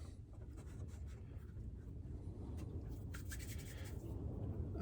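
Clay oil burner pottery pieces are trimmed with a tool, giving a continuous close scraping and rubbing sound that runs steadily throughout with no talking.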